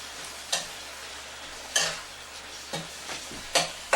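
Tex Mex pork chili with creamy corn being stirred in a pot, four or five separate scrapes and knocks of the spoon over a soft background simmer.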